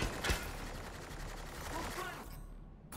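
Gunfire from Mass Effect: Andromeda comes as a burst of rapid shots with one sharp crack near the start, then a rumbling, busy combat bed that drops away before a final hit at the end.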